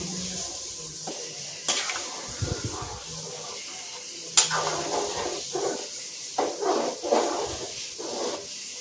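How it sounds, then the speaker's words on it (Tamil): Coconut and garlic paste being stirred into a curry in a pot: a spoon scraping and clanking against the metal, with a couple of sharp knocks and a soft sizzle between strokes. "அதை நல்லா ஊற்றி கிண்டி விடணும்"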